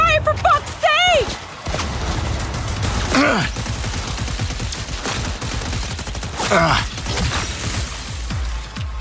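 Gunfire in the video game Cyberpunk 2077 Phantom Liberty, loud rapid bursts and volleys of shots mixed with whooshes and impacts, continuous under shouted game voices.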